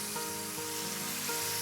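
Lemon juice added to a hot pan sizzles steadily, a soft continuous frying hiss at close range with no talk over it.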